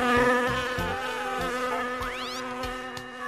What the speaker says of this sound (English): So Buzzy Bee leaves his colony to see how others live